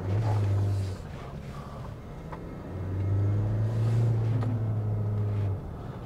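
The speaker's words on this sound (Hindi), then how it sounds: "इंजन काफी रिफाइन है और लैग बिल्कुल भी नहीं है" A Mahindra Scorpio-N SUV with an automatic gearbox driving along, its engine a low, steady hum that swells and eases as it accelerates, under continuous road rumble from inside the cabin.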